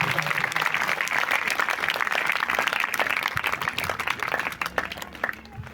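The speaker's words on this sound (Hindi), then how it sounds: "अगर आई है तो जोरदार तालियां बजाएंगे" A church congregation at a Sunday service applauding loudly, a dense continuous wash of many hands clapping that thins slightly toward the end.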